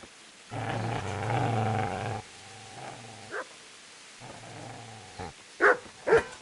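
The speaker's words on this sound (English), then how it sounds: "Get away, you mutt!" A dog in the Kingdom Come: Deliverance video game gives a long, deep growl and then shorter growls, ending in two sharp barks, all close and loud with no speech.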